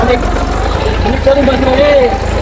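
A tractor engine runs steadily with a low, rumbling drone throughout while ploughing a farm field, as people talk over it.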